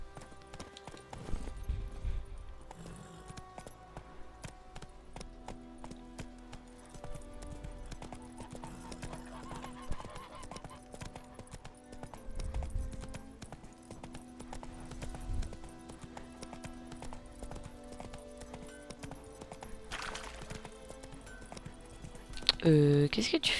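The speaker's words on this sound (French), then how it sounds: "Cheval." Horse hooves clip-clop in The Witcher 3 as the horse Roach is ridden, with occasional neighs under a soft game soundtrack and frequent talking by a player.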